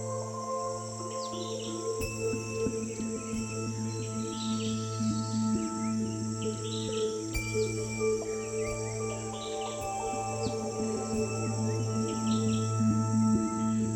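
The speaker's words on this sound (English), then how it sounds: "There's a constant swarm of insects around the trees." Dense insect chirring and buzzing around flowering Bertam palms in a tropical forest, a steady layered drone with scattered bird chirps over it, continuous and moderately loud throughout.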